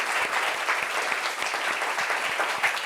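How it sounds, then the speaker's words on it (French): A studio audience claps for a guest, a dense steady roar of applause from many hands, loud and close throughout, with a faint voice underneath. "Applaudissements pour elle, s'il vous plaît."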